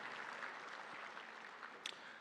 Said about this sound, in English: Let's give them a round of applause for their hospitality and great work.